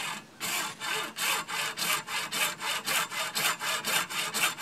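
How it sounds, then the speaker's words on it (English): A hand hacksaw cuts through a clamped PVC pipe in quick, regular back-and-forth strokes, each rasping pass distinct and close, speeding up slightly with no talking. "how to cut the PVC pipe with a hacksaw"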